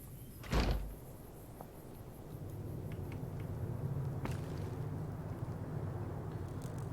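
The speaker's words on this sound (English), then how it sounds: "I'm going to bang my head on this door frame as I go in" A character bumps their head on a door frame in Fallout: New Vegas: one dull, heavy knock lands near the start, followed by a steady low ambient hum with a few faint ticks.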